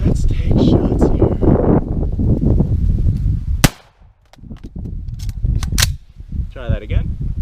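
Shots from a handgun with a budget red dot sight fire at a target 25 yards away, two sharp loud cracks separated by a pause, with a few smaller clicks, amid wind noise and talk.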